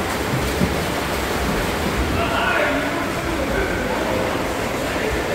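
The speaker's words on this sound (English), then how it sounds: "Listen to the water." Steady broadband rushing of water from a swimming pool, continuous and fairly loud, like a pool churning nearby, with no clear voices over it.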